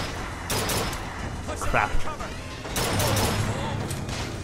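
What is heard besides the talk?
gunshots in the video game BioShock Infinite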